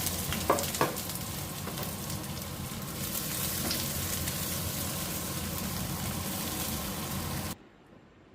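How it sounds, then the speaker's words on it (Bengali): Sliced onions fry in ghee in a wok with a loud, dense, steady sizzle and a couple of early clinks. The sound cuts off abruptly near the end, leaving quiet room tone. "কড়াই একটু ঘি দিয়ে আগে একটু বেরেস্তা ভেজে রাখছি"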